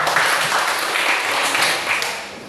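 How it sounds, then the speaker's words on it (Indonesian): A classroom group claps for a student, a steady, dense wash of applause filling the whole moment at moderate loudness with no voices over it. "Oke, give applause for Afio"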